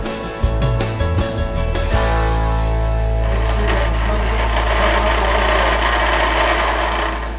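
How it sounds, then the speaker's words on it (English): Vibrating tray machine shaking chocolate molds, with a steady loud buzzing hum that holds evenly after some brief clattering at the start. "I'm going to turn the vibrator on. This whole tray vibrates."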